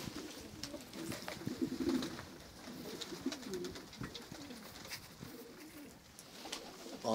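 Pigeons coo repeatedly in low, throaty burbling phrases at close range on a snowy, cold balcony in Ankara. Soft rustling and fluttering come between the calls, and no one speaks.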